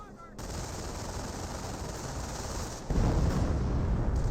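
Gunfire in Company of Heroes 1 as a Rifleman squad engages a German MP42 position: dense, continuous rattling shots that swell louder partway through, with distant bangs underneath.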